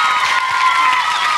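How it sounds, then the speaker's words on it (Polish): Studio audience applauding and cheering for a children's band at a national children's Eurovision concert, a steady dense burst of clapping with a few shouts, loud and close throughout. "Brawa dla sponsorujących ten zespół rodziców."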